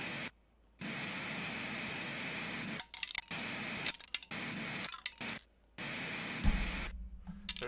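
Spray paint hissing from an aerosol can in the Kingspray graffiti game, steady bursts of bright hiss broken by short silent gaps, fairly loud and with no voice over it.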